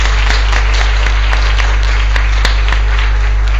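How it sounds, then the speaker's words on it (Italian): Applause at an Italian literary award ceremony, a steady, dense wash of clapping from an audience that fills the room, with a constant low hum underneath and no pauses. "grazie a Paolo Magagnini, l'applauso è meritatissimo."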